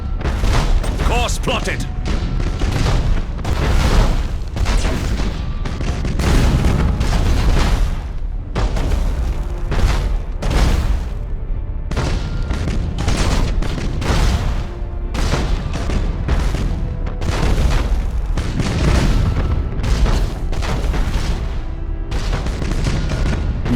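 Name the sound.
starship weapons firing and explosions, Battlefleet Gothic: Armada video game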